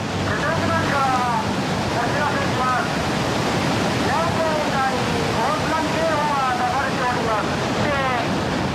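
Tsunami floodwater surges through a town in Japan with a loud, continuous roar and wash, steady throughout, while voices are faintly heard within the rushing noise.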